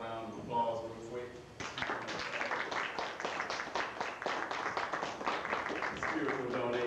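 An audience at a lecture breaks into a short round of applause, a dense patter of many hands clapping at moderate volume after a brief spoken moment.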